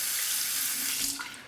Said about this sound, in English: So let's warm it up under the hot water.